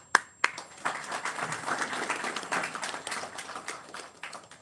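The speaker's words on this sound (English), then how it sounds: "It requires a lot of applause." Sparse audience applause in a temple talk setting, opening with a couple of sharp single claps and then settling into a faint, thin patter of scattered clapping.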